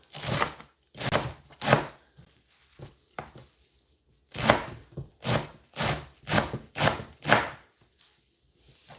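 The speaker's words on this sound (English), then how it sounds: "You can equally just do it and chop it to give it tiny sizes" A knife chops vegetables on a board in two bursts of sharp, close thunks, three quick strikes, a pause with faint taps, then a faster run of about eight evenly spaced chops.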